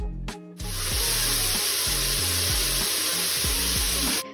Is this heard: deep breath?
no